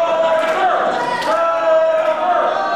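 A wrestling crowd roars and cheers for Suicydal Soulja, a steady loud wash of many voices with swelling shouts and a ringing tone running through it.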